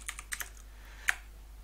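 A few quick keystrokes on a computer keyboard while entering a command on a Windows 10 PC, soft close clicks in a short uneven cluster, then one sharper tap, in a quiet room.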